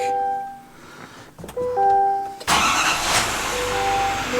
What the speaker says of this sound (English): Start of the truck.